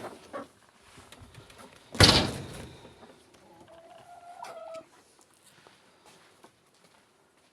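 Chickens cluck and call in a coop, with a sharp bang midway like a door slamming, then a brief higher call and soft rustling.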